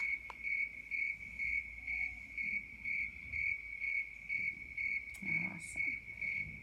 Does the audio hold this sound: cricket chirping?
yes